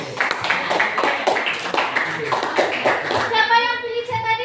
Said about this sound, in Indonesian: tepuk tangan untuk teman-teman yang sudah menjawab dengan benar